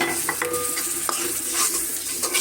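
Onions frying in oil hiss and sizzle loudly as water hits the pan, a dense steady spitting with a few clicks of stirring, close and alone with no voices.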